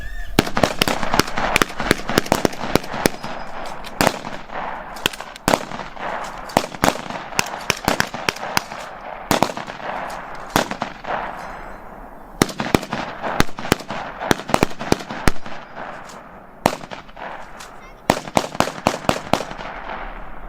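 Korean War era firearms fire at a live range demonstration, loud sharp shots cracking in irregular bursts and rapid strings, some overlapping, with short pauses between volleys.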